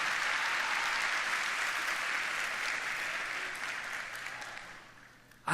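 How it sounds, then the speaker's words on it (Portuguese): A church congregation claps together in sustained applause during a worship service, a dense, steady wash of hand claps that holds strong for several seconds and then slowly fades out. "Dá uma salva de palmas aí para Jesus"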